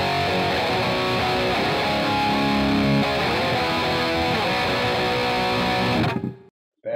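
Distorted electric guitar played through a Kemper Fender Deluxe Reverb amp profile with a 4x12 cabinet, loud and continuous with strummed chords, then cut off abruptly near the end.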